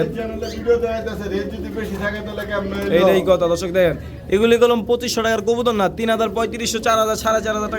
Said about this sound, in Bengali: একজোড়া মানে এক্সিবিশন কবুতর